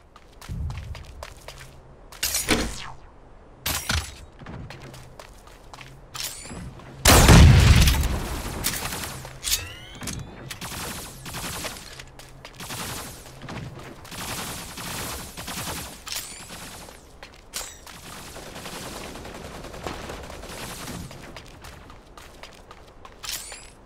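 Gunfire in the mecha shooter game Super Mecha Champions: scattered sharp shots and booms, one heavy blast standing out, separated by quieter stretches with light footstep-like thumps and game noise.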